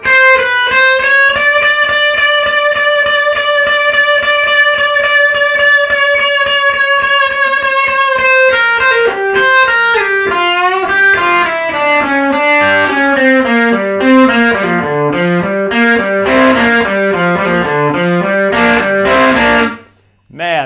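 Distorted electric guitar plays the closing section of an instrumental, starting with a held, bending high note and then running into fast, continuous licks that rise and fall, loud and alone to the end.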